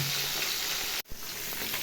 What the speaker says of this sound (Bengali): এই তো মাছটা ভাজা হচ্ছে